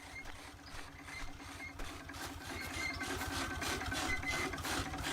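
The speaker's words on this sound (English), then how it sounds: "Strange noise for a tractor to make." A tractor engine in a farming video game runs with a steady, buzzing mechanical drone that swells a little louder toward the end, with a rapid rattling pulse underneath and no talk over it.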